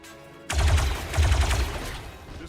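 Rapid gunfire from a rookie soldier in the turn-based game XCOM, two loud close bursts of overlapping shots with a short gap between, fading into a brief tail.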